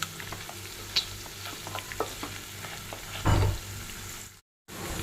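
Quail pieces frying and being stirred in a pan, a steady low sizzle with scattered crackles and a louder burst of stirring near the end before a brief dropout.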